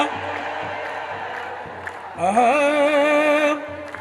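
Crowd ululation at an annual Ethiopian Orthodox religious festival honoring Abune Tekle Haymanot: a sustained, wavering high trill rises suddenly partway through and carries for over a second above a steady background of crowd noise and singing.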